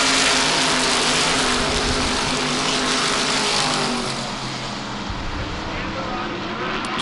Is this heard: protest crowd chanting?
no